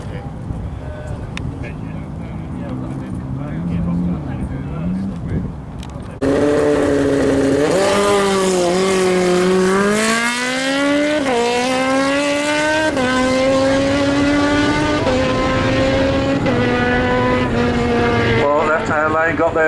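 Drag racing cars at a no-prep event at North Weald, including a BMW, launch and accelerate down the strip. After a quieter start, a loud, close engine roar bursts in and its pitch climbs steadily through repeated revving sweeps.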